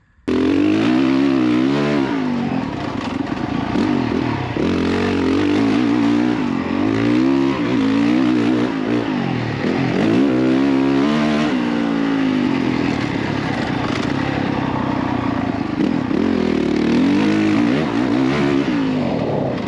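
A 2024 Honda CRF450RX motocross bike is ridden hard around a dirt track, its engine note loud and continuous throughout, rising and falling through gear changes as it pulls from low revs without being revved out.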